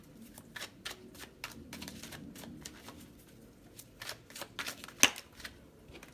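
A deck of tarot cards is shuffled and cards are drawn by hand, quick close riffling flutters and soft slaps in irregular bursts with one sharper snap near the end, quiet and without talk.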